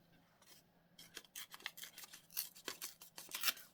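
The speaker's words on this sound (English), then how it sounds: "I'm going to rip this a little bit." Paper is torn by hand for a craft project, a series of quiet, short ripping and rustling bursts that come closer together and grow louder toward the end.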